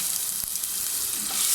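Crushed shallots, garlic and ginger hit hot tempered oil with dried chillies and curry leaves, giving a steady close sizzle and crackle with a brief stir partway through.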